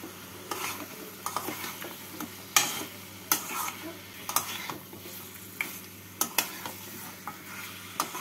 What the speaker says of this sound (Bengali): এবার ভালো করে মশলার সাথে আলু আর মাথাগুলোকে মিশিয়ে নেব।